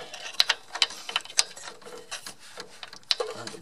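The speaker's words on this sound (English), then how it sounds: "see if I can loosen it up with this 1/4-inch driver" A 1/4-inch ratcheting driver works the drain plug nut on a John Deere Gator 4x2 during an oil change, giving a quick run of close, uneven ratchet clicks and mechanical clatter without talking.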